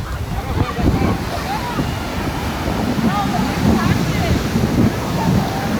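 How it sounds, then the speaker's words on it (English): Ocean surf breaking along Huntington Beach, a steady low wash of waves with wind rumble across the microphone, continuous and fairly loud, with people talking nearby. "You could tell already that the waves are going up way higher than they were before"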